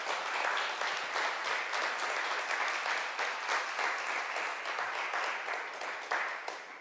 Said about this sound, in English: Let's give a warm round of applause to Sam O'Brien.